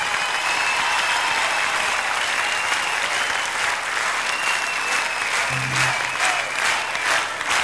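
Sustained audience applause at a live music show, a dense, steady wash of many hands clapping throughout with a brief low tone near the end.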